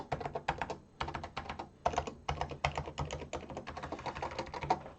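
Fingers type on a Toshiba MSX computer keyboard, quick clusters of crisp, close key clicks with short pauses between bursts.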